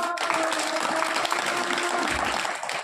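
Men in the audience at a Marathi kirtan during a Hanuman Chalisa recitation gathering clap hands in a sustained, even wash of applause, fairly loud and continuous, trailing off at the end.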